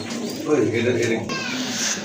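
Baghdadi Homa pigeons coo in low, rolling calls at close range, with a voice speaking over them throughout.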